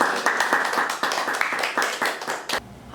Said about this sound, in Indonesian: hari ini kita tepuk tangan dulu buat Kavi.